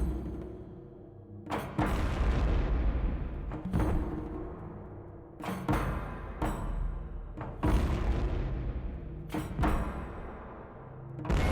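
A one-pound explosive charge blows apart a test structure on a range. Several sharp, distant-sounding booms come at intervals of about two seconds, each rolling off in a long echo. No one speaks.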